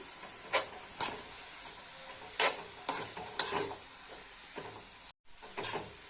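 Spring onion curry being stirred in a pan with a utensil, giving several brief distinct scraping strokes spaced irregularly over a faint background sizzle, close and fairly quiet.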